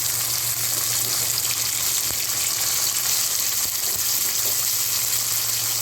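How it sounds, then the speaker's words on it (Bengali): Spice paste of tomato, raw onion and green chilli sizzling in hot oil in a pan for a rohu fish curry, a steady, fairly loud frying hiss that runs without a break, with no talk. "এবার আমি মশলাটা দিই। আমাদের টমেটো, পেঁয়াজ কাঁচা আর কাঁচা লঙ্কা বাটা"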